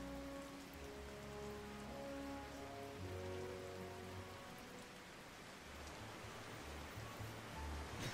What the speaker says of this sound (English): Probably not the best day to do this, because it's raining, but it's fine.